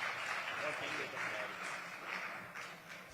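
An audience at a kavi sammelan poetry gathering applauds poet Damdar Banarasi, a soft, distant-sounding wash of clapping that holds steady throughout.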